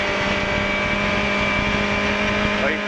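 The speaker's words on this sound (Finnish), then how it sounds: "Ei muuta kuin kaasu pohjassa vaan." VW Golf Mk1 rally car engine held at full throttle from inside the cabin, a loud, steady, buzzing drone with sustained high revs and no letup, while a co-driver's voice talks over it.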